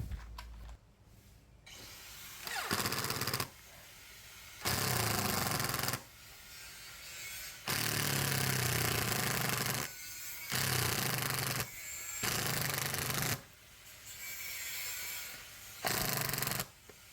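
A Mollar CIDR12150 cordless impact driver runs in repeated bursts of one to two seconds each, a loud harsh rattling hammer buzz that starts and stops abruptly, separated by brief pauses as the trigger is released.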